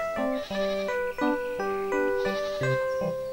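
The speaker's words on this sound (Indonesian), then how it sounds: "Clara menemani mereka memberikan makan kambing" Goats bleating in a village setting as they are fed, a run of overlapping, wavering animal calls that continue steadily through the clip, close and fairly loud with no talk.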